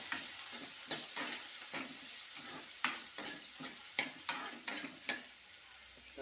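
Onions fry in a pan for a methi paneer dish, sizzling steadily while a utensil stirs and scrapes in repeated, fairly regular strokes, close and moderately quiet.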